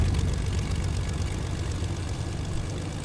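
A video-game airplane drones continuously with a steady, dense engine and propeller roar at constant loudness, with no talking.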